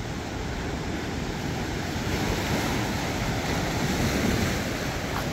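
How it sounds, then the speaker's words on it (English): Sea surf rolling onto a rocky Israeli shore, a steady loud wash of breaking waves with gusty wind noise across the microphone and no talking. "Listen to the sea."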